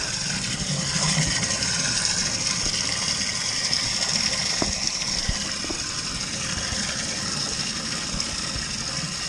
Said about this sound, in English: Probably can't hear nothing with the water running here.